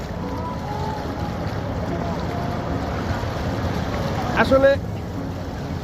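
Fast water current rushes over white stones at Sada Pathor in Sylhet, a steady broadband roar with wind buffeting the microphone, while a person speaks briefly near the end.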